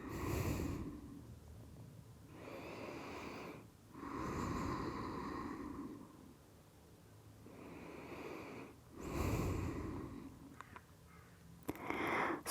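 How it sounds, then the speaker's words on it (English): Slow, deep breathing held in yoga child's pose, forehead resting on the hands: long airy inhales and exhales in a steady rhythm, close and fairly soft, with quiet gaps between breaths. "Nice deep breaths."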